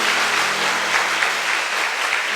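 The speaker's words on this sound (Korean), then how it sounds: "하나님께 영광의 박수를 올립니다" Congregation applauding in a church service, a dense, steady wash of clapping from many hands filling the room, continuous and fairly loud throughout with no voices above it.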